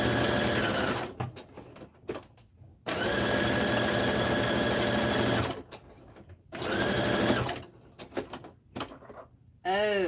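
A sewing machine stitching a denim and flannel seam, running in long steady mechanical bursts separated by short pauses and clicks, with a brief snatch of voice near the end.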